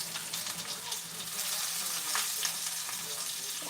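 Beer-battered green tomatoes fry in hot oil with a dense, steady sizzle and crackle. The frying is close and continuous, with faint stirring or shifting, and there is no talking.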